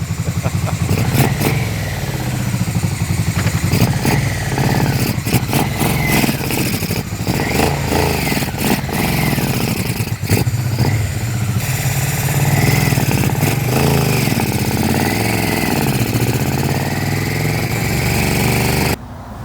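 A Yamaha Vmax motorcycle engine runs rough close up, loud and continuous with uneven sputtering, popping and revving throughout, then cuts off abruptly at the end.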